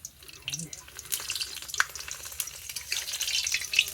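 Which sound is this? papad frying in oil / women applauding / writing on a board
papad frying in oil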